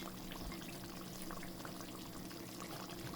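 Water being poured into dal cooking in a pot, a faint, steady liquid trickle and low simmering bubble running continuously for a few seconds, with no talk.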